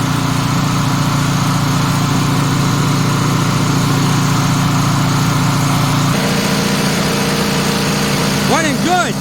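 An older Generac generator converted to a propane carburetor runs at a steady, loud, close drone, the engine holding an even pitch before a slight shift in tone near the end.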